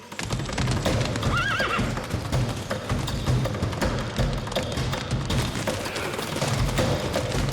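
Several horses gallop in a dense, continuous drumming of hooves, with a loud whinny rising near the start and a busy animated soundtrack underneath.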